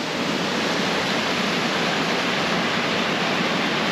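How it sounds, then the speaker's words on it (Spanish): Waterfall cascading over rock in a canyon in Uruguay, a loud, constant broadband roar of falling water, close and unbroken, with no voices over it. "una cascada tras otra"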